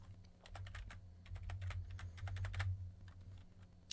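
Fingers tap out a registration form on a computer keyboard, a quick, irregular run of close, light key clicks over a faint low hum, with no talking.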